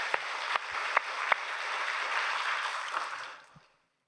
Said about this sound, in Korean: 하나님께 우리 감사의 박수를 올리기 바랍니다.